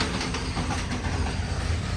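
A train runs steadily along the tracks, heard from inside a carriage near Bhiwandi, with a continuous loud rumble and faint rhythmic wheel clatter throughout.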